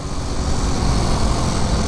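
A 1973 Honda C90 motorcycle's small engine revs hard and steady, a continuous loud, buzzing drone with no pauses and no voices.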